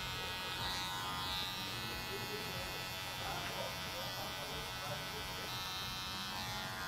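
Electric hair clippers buzz steadily and fairly faintly throughout a drop fade haircut on wavy hair, a continuous motor hum with no clear pauses.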